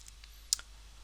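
A single sharp computer mouse click on a settings gear icon, faint and close, with a couple of tiny ticks around it over quiet room tone.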